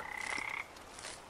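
Cartoon sound effect of a frog croaking at night, one sustained raspy croak and then a fainter second call, close and alone with no voices.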